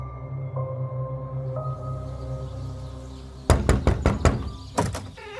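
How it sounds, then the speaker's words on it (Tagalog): Loud knocking on a door: a burst of several heavy, rapid knocks, followed by a short pause and two more knocks, over a low background music bed. "Kaagad akong bumangon nang makarinig ng malakas na katok sa pintuan."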